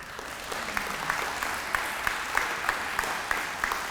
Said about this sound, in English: So can we have a nice round of applause?